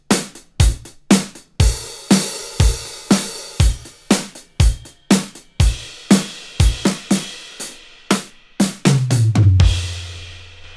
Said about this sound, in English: I have a Logic project here where I've opened up just one of the Handy Drums series, the vintage standards.